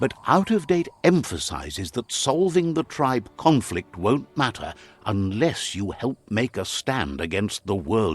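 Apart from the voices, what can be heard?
No everyday noise stands out behind the speech.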